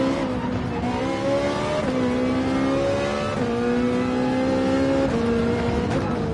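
A Ferrari 458 in the racing game Gran Turismo 7 revs hard and high, its engine note climbing, then dropping with each upshift, four or five times in a row. The loud, continuous whine plays alone with no talk over it.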